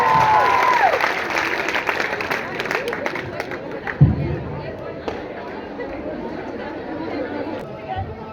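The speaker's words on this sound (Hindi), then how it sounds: "जोरदार तालियों से उनका स्वागत करें।" An audience at a college program applauds to welcome a performer. The clapping is mixed with crowd chatter and voices, is loudest at the start and fades into murmuring, with a sharp knock partway through.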